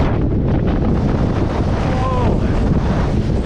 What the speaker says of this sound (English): The wind is blowing quite strong.